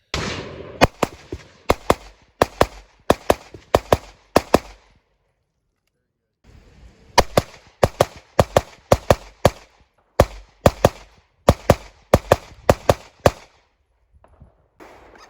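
Glock pistols fired in quick strings at an outdoor range, sharp loud reports in fast bursts of four to eight shots separated by short pauses, close by, with no talk over them.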